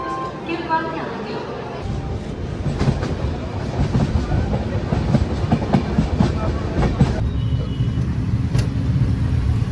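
A train pulls into Nanded station in India, its steady rumble and clattering wheels filling the scene alongside platform noise, with people talking nearby.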